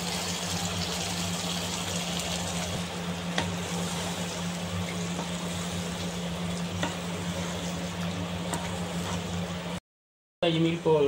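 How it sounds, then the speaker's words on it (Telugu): Mixer-jar rinse water is poured into a simmering egg curry in a pan, a steady sizzling, bubbling hiss with a low hum under it, ending in a brief silence and a short clatter. "ఈ మిక్సీ జార్ కడిగిన వాటర్ని వేస్ట్ కాకుండా దీంట్లో వేసేయాలి"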